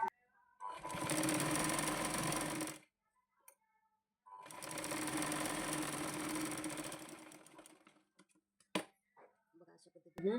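Electric sewing machine stitching a folded fabric strip for a blouse, running in two long steady bursts of rapid whirring with a pause between, followed by brief clicks and handling noises.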